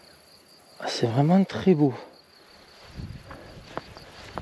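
Crickets chirp with a steady, faint high trill in sunny mountain grass, continuing under a brief spoken remark and some light rustling.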